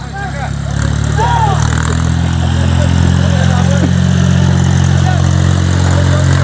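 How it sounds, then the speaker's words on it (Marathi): A JCB excavator's engine idles in a steady, loud, low rumble while it clears a blocked road near Umarga, with voices calling out nearby over the continuous drone. "आहे जेसीबी हा ह्याच्यानं हे साफ होतं हे वाहनं जातात"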